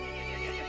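A horse neighing in the video game Resident Evil Village, a brief sustained whinny with harmonic overtones, close and clear over a low background.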